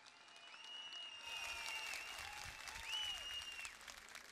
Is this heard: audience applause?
yes